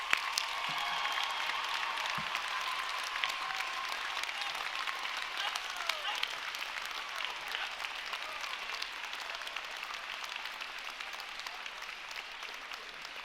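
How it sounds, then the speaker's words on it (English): Sustained applause from a large crowd of graduates at a Hofstra University undergraduate commencement ceremony, honoring parents, friends and family; dense steady clapping filling the whole stretch without a break. "turn around and give a big round of applause to your parents and your friends and your family"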